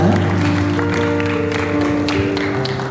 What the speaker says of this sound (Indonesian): kita berikan aplaus Bapak Ibu Saudara. Kita berikan tepuk tangan.